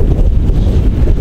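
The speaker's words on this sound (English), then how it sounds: "I'll just show you how windy it was" Strong wind gusts at minus 10 in a winter landscape buffet the microphone in a loud, continuous low rumble with no pause, and nobody talks.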